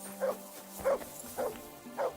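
A dog in the video game Kingdom Come: Deliverance 2 barks near a bridge, four evenly spaced short yapping barks at moderate distance over a low ambient hum.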